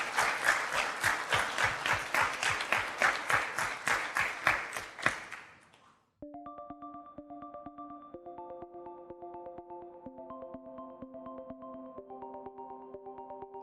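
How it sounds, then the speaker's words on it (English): Warm audience applause with steady clapping for about five seconds, fading out before soft musical tones begin. "A round of applause, please, for everyone who shared a story."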